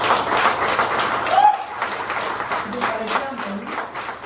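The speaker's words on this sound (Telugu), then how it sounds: "give yourself big round of applause" An office audience claps together for a few seconds, a dense ripple of hands that swells and then thins, with voices murmuring through it.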